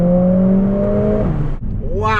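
A Mercedes-AMG A45 accelerates hard from a standstill race start, its engine note climbing in a strong rising drone, then breaking briefly at a gear change before revving up again, loud and close.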